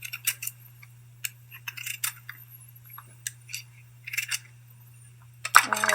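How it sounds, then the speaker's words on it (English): A sharp peeler scrapes the hard, thick shell of pumpkin pieces in short, irregular scratchy strokes, close and fairly quiet over a steady low hum. "with the help of sharp peeler, peel this hard and thick shell of pumpkin pieces"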